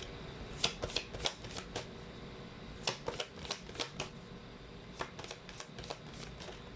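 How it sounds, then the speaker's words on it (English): Chinese fortune cards are shuffled close up in two bursts of rapid riffling flicks separated by a short pause, fairly quiet with no speech. "let's pull up the Chinese fortune cards now"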